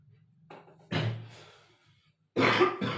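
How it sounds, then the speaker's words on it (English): Two harsh coughs ring out close by, separated by a brief pause, with a faint low hum underneath and no talking. "I'm not well actually, that's why I'm coughing."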